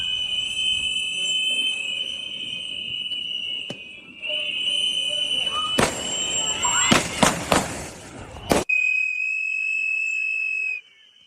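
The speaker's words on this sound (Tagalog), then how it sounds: "isang putok ang narinig at sinundan pa ng hindi bababa sa 10 putok." A rapid burst of at least ten sharp, loud gunshots fired in quick succession in Minneapolis, over a steady high electronic whine and background noise.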